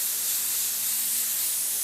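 Paint blasts evenly from a spray gun onto a detailed object, a steady close hiss of airbrush or spray that runs unbroken and alone throughout.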